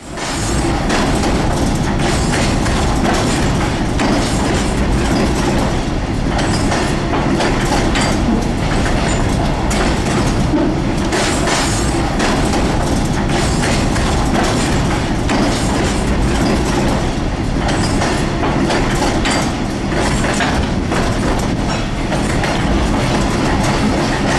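A Santa Fe train on the Valley Division crosses a drawspan bridge heading west, producing a loud, sustained rumble and clattering wheel noise without pause.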